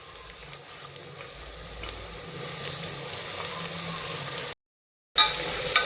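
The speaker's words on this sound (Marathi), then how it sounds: "करप केलेला कांदा आपण तेलात घालून त्याला छान असा ब्राऊन होईपर्यंत तळून घ्यायचा" Onions fry in hot oil on a high flame, a soft, steady sizzle that stays low and even, broken by a brief gap near the end.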